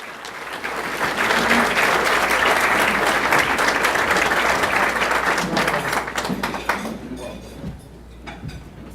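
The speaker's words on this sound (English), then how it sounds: "Rick Kogan, let's give him a round of applause" A roomful of people gives a sustained round of applause at a Lincoln Park Zoo lecture event, loud and steady for several seconds before tapering off into a few scattered claps.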